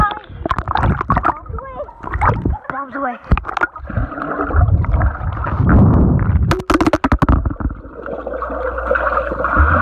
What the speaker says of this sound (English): I'm gonna drop my foot in the water on purpose